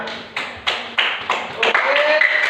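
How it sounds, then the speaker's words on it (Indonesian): Classroom clapping from a group of students, a series of sharp, distinct hand-clap bursts in quick rhythm that grow slightly louder and blur together toward the end, heard close with faint voices underneath. "tepuk tangan untuk semuanya"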